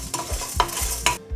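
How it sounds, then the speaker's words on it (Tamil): Lentils, garlic and dried chillies rattle and scrape in a dry pan as a spoon stirs them, a close, steady sequence of gritty rustles with faint sizzling and no speech. "இப்போ இத நல்லா dry roast பண்ணி முடிச்சாச்சு."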